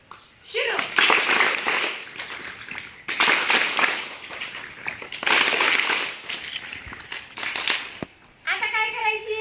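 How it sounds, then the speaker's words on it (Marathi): A group of children perform the khobra (coconut) clap in a classroom activity, producing dense, sustained bursts of many overlapping claps in three long waves, followed by a brief voice at the end. "आता नंतरची टाळी खोबरा टाळी माझ्यासाठी"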